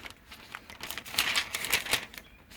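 A sheet of double-sided gold Deco foil with a plastic film layer crinkles and rustles in quick bursts of handling, close and fairly soft, with no voices.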